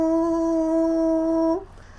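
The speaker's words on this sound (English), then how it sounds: "This starts off at low frequency when the train initially starts before moving to its normal frequency." A French train's DC drive pulses at a low frequency as it starts, making a loud, steady electric hum with strong harmonics that stops abruptly after about a second and a half.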